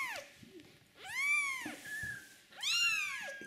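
A mother cat calls to her young kittens with two long, loud rising-and-falling meows close by, separated by a quieter thin cry and a short pause.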